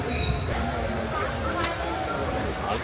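Train at a railway station, with a loud, steady rumble of rolling stock and a faint high squeal of wheels.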